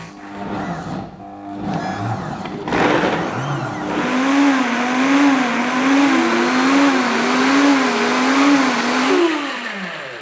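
A Kuvings SV-500 vacuum blender blends apples and water, its motor starting in short bursts and then running continuously with a wavering, pulsing whir that rises and falls before spinning down at the end.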